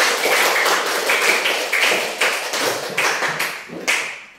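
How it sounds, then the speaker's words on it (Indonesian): A burst of hand claps, loud and close, with uneven sharp beats carrying on for several seconds. "tepuk tangan kita"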